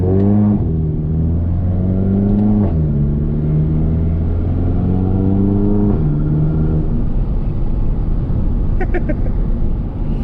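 Hybrid-turbo MK7 Golf GTI with a DSG gearbox accelerating hard from inside the cabin, engine tone rising through quick gear changes in stepped pulls, loud and close throughout.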